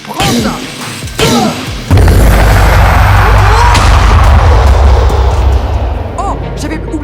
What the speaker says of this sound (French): j'avais oublié que lorsqu'il perd de la vie, il explose